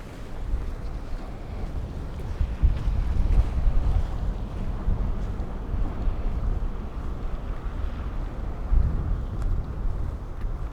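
Strong wind roars and buffets the microphone on a winter walk through Breckenridge, Colorado, a heavy, low rumbling gust sound swelling and easing continuously with no other sounds standing out.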